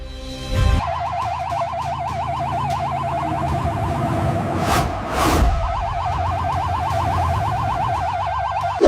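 A warbling siren wails steadily at a moderate distance, its cycling tone briefly interrupted midway by a couple of sharp blasts before the warble resumes, with no talking.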